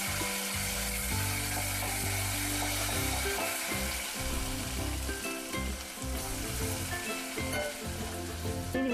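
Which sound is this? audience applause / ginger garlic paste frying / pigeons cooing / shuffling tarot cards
ginger garlic paste frying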